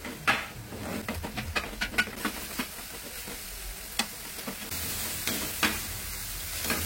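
Aromatics sautéing in oil in a pan, with a steady soft sizzle broken by repeated sharp clicks and scrapes of stirring, close and fairly quiet, with no talking.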